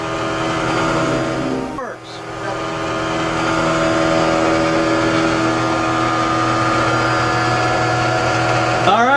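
A fuelless generator driven by a standard electric motor through a belt and loaded with incandescent light bulbs runs with a steady loud mechanical hum and whir, briefly dipping once early on before resuming, with someone talking over it.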